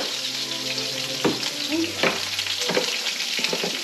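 Steaks sizzle steadily in a hot pan, a loud, close, continuous hiss with occasional sharper crackles and stirring clatter, no voices over it.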